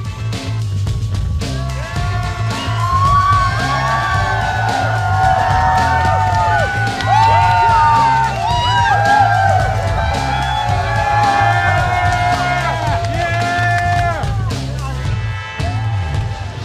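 A live crowd at the League of Legends Season 3 World Championship in 2013 cheers and whoops loudly and continuously, a thick, roaring wall of voices with shouts rising above it, under a commentator's talk and tonal arena music.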